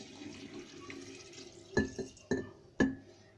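Cold water is poured from a container over apples in a glass jar for homemade vinegar, giving a soft close splash and trickle broken by a few sharp knocks and sloshes.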